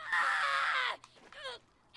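Gaige, a character in the video game Borderlands 2, lets out a loud, sustained scream of nearly a second, followed by shorter vocal cries and quieter game sounds.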